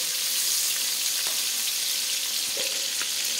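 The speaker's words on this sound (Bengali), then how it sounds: "তেলটা গরম হয়ে গেছে, এবার আমি মাছগুলো ভেজে নেব একটা একটা করে।" Prawns frying in hot oil in a pan for a Bengali prawn malai curry: a loud, continuous, bright sizzle with a few faint clicks, and no voices.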